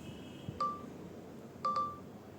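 An Infinix Note 40x 5G phone sounds its camera self-timer countdown: three short, clean electronic beeps, one alone and then a close pair, sounding near and clear over a quiet room with no talk.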